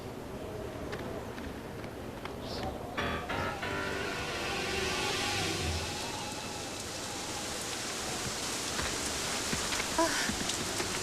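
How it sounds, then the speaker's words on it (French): Rain falling in a video game: a continuous soft hiss of rain with patter on surfaces, fairly quiet and steady, broken by a brief rattling burst early on and light swelling noise midway, with no talk. "à tous les coups, je vais avoir droit à la pluie."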